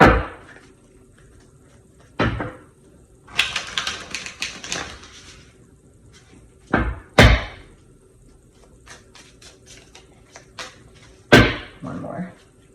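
A deck of tarot cards is shuffled in several brisk riffling bursts, with sharp slaps and thumps between them, close and fairly loud against a quiet room.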